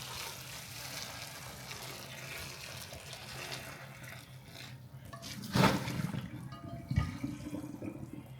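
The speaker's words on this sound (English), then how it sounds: "now I'm going to add the water" Hot boiled water is poured into a pot of curry goat, a gurgling splash that rises partway through with a couple of sharper sloshes over a low background hum, no one speaking.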